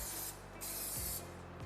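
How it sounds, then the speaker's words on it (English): Cooking oil spray hisses onto food before air frying, two short bursts of close, moderately quiet spraying. "now we spray a layer of oil on top to make it to coat it with oil"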